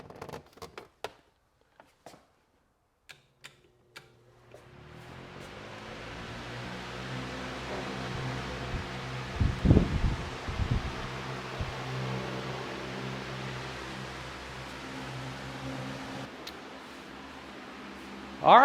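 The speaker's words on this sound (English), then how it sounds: "having that fan blow on us all the way from across the garage" A wall-mounted oscillating fan blowing across a garage, heard as a steady soft whoosh with a faint low hum that starts a few seconds in after scattered clicks and handling noises, then runs on at moderate distance.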